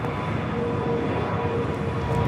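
A plane taking off at LAX, heard as a steady, loud, broadband engine roar with a low rumble that holds evenly throughout, with no voices.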